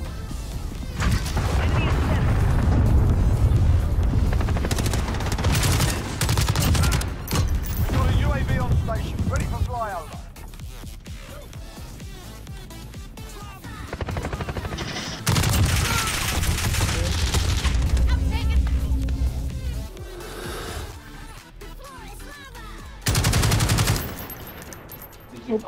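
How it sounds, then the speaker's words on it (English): Loud, dense gunfire and heavy explosive blasts from a cruise missile strike in the Call of Duty Modern Warfare video game, with repeated booming bursts through the whole stretch and a voice talking over the combat at times. "Allied cruise missile away!"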